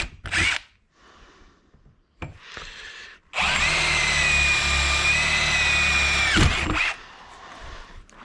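A power drill drives number 14, 3/4 inch self-drilling screws into a fence post: short bursts of whirring, then one long steady drilling run of about three seconds before it stops, close and loud.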